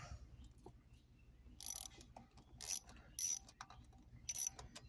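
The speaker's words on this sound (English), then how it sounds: "I'm going to use a ratchet." Ratchet clicking as it turns a bolt on a 1996 Chevrolet Lumina during fuel rail installation, with several short bursts of close, crisp clicking separated by pauses.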